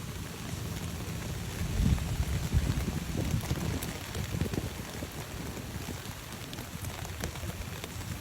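Rain falls steadily at the Tomb of the Unknown Soldier on a wet day, a continuous spattering wash with gusts of wind buffeting the microphone.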